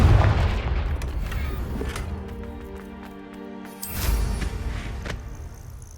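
Confringo fire-blast spell explosions in Hogwarts Legacy: a loud opening burst that thins into a ringing, humming lull, then a second sharp blast around the midpoint with a noisy decay.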